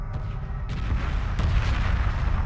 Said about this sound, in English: Cool guys don't look at explosions.